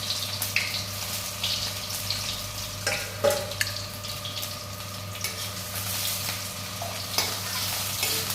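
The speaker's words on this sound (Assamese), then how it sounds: "পিঁয়াজখিনি ধুনীয়াকৈ ৰঙচুৱা হোৱালৈকে ভাজি ল'ম" Onions frying in oil in a pan, a steady close sizzle with scattered clinks and scrapes of stirring, and no voices.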